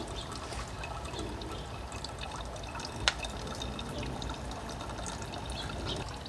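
Quiet, steady trickle of water flowing out of a compact Sawyer Mini water filter, a soft continuous dribble close by with one brief sharp click partway through.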